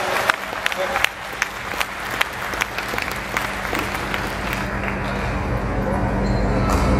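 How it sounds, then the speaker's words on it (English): An audience bursts into a big round of applause at a Solar Impulse 2 event in Ahmedabad, dense clapping that builds and holds loud and steady, with a few sharper claps near the start and crowd murmur beneath. "give her a big round of applause."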